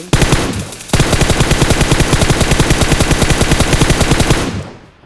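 Rapid automatic gunfire from PUBG, sprayed left and right in long, loud, continuous bursts, with a brief pause near the start before the stream of shots resumes and then fades out.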